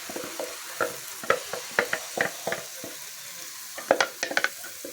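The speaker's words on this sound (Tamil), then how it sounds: "மசாலாவோடு சேர்த்து நல்லா வதக்கி விடுங்க." Ground masala and banana flower sauté in a pan, with a quiet sizzle punctuated by a series of sharp spoon stirs and scrapes, close and without voices.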